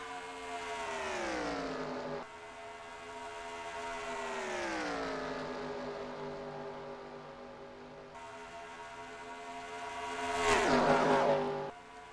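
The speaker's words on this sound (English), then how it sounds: "The number 6, Tom Kincaid, coming to 5 laps to go in the first ever Champ Car, AAA sanctioned Champ Car race here at Indianapolis." Race cars in NR2003 sweep past during a 1909 Prest-O-Lite Trophy race at Indianapolis, their engines rising and falling in pitch as they pass. A louder, harsher pass comes near the end, with no talk over it.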